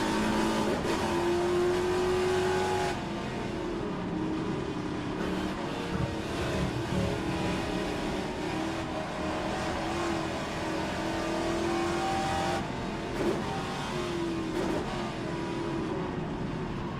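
Classic Trans-Am race cars lapping the Adelaide circuit, engines roaring steadily and loud throughout with repeated revving rises and gear changes as they accelerate and brake around the track.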